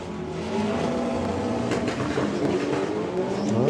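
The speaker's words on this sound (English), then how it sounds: "quite a few misfires is going up the track" Drag race car in a Doorslammers final, misfiring as it runs up the track: a loud, continuous, rough engine roar with a stuttering, uneven tone.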